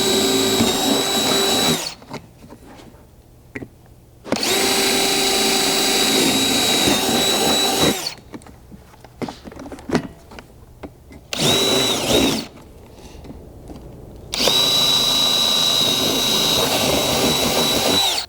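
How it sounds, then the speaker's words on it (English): A power drill whines loudly in several separate bursts of a few seconds each, drilling mounting holes for a Jeep JL front door MOLLE panel, with quiet pauses and small handling noises between them. "use it as a guide to drill the remaining mounting holes"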